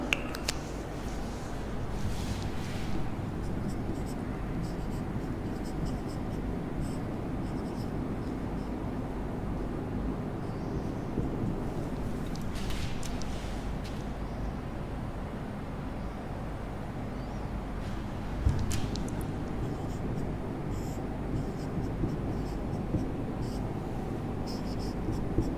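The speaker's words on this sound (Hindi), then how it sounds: "सबसे पहले मैं यहाँ पे थोड़ा लिख लूं" Handwriting on a surface during a Hindi lesson, with faint intermittent scratching strokes over a steady low background hum.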